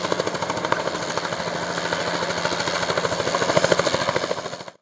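A Bell Jet Ranger military training helicopter of the Ugandan air force flies overhead. Its rotor chops in a fast, even rhythm, loud and close, swelling slightly before cutting off at the end.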